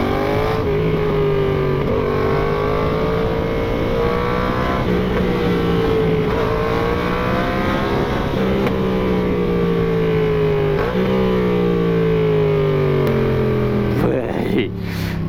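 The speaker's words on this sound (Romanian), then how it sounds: "Și mă duc la lucru cu motocicleta anume pentru sunetul ăsta pe care l-am obținut de ieri seara." Yamaha MT-07 motorcycle fitted with a new aftermarket exhaust, its engine droning loudly and steadily with pitch rising and falling through repeated revs, close by, ending in a brief buffeted burst of wind noise.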